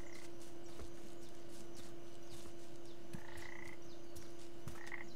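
Frogs croaking in the video game Papo & Yo, several short calls repeating over a steady background hum, moderately faint and with no voices.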